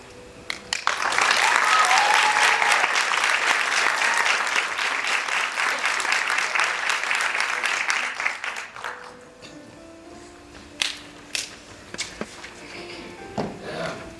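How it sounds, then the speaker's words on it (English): A crowd at a pageant applauds loudly and steadily for several seconds, then the clapping thins out into scattered claps and quiet room noise. "let's give them one more round of applause"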